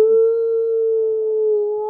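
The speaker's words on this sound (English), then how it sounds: "In the distance came a haunting howl." A haunting howl sounds in the distance, a single sustained tone that holds steady for about two seconds with no other sounds around it.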